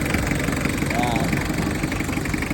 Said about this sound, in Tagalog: Ayun yung makina niya mga boss, Mazda RF.